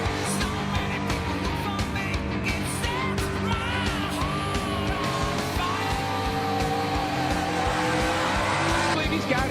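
NASCAR stock cars race around a track, their engines roaring continuously at close range with tire squeal mixed into a loud, dense wash of track noise.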